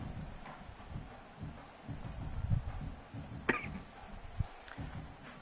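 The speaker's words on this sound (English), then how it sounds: "I have this annoying cough I can't get rid of for like 2 weeks." A single sharp cough stands out over a quiet, murmuring background, followed by a softer throat sound moments later.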